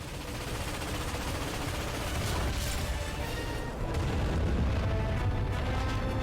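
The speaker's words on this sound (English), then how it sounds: "Cannons ready! Fire!" Dense, continuous rumbling bursts of cannon fire and explosions in Ratchet & Clank, loud and sustained with no clear pauses.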